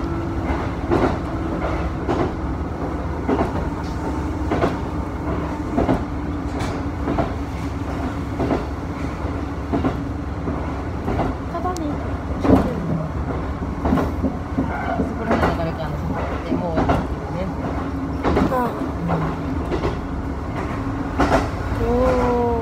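A train running between Tanushimaru and Ukiha stations, heard from on board as a steady low rumble with repeated rhythmic clicks and knocks from the rails throughout.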